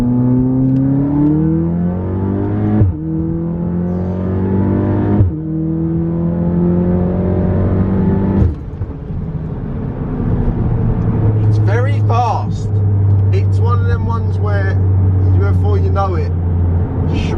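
A tuned VW Golf R with over 400bhp pulls hard uphill in stage 2 form, its engine note climbing through three sharp rising gear pulls with brief breaks for shifts before settling into a loud drone, with someone talking over the later part.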